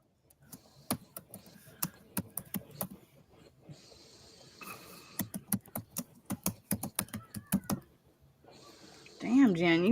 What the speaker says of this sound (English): Damn, Jen, you rough on that keyboard